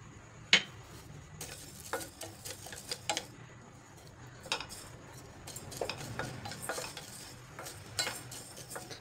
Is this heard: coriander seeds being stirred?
yes